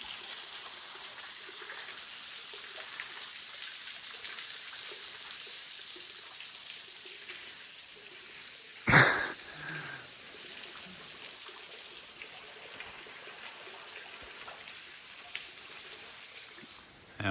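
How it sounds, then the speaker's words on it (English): Waterfall pouring from above into a lily pond pool within a rocky gorge, heard as a steady, moderately quiet wash of falling water with a brief louder splash partway through. "That's the waterfall above our heads."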